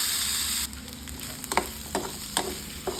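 Salted mushroom curry frying in a pan, a loud steady sizzle that drops after the first moment, then several distinct scraping stirs of a spoon at uneven intervals.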